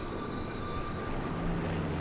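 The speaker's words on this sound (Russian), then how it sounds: "И да, тут летает самолет" A propeller aircraft flies overhead in the World War II shooter Sniper Elite 3, heard as a steady droning engine hum that fills the whole clip at a constant level.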